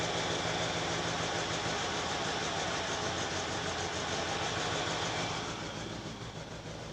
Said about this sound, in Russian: Перебои в работе двигателя.